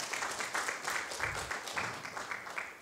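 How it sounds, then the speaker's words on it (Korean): Church congregation applauding, steady rhythmic clapping from a crowd at moderate distance, fairly soft and continuous without speech. "인사할 때 박수, 격려해 주시기 바랍니다."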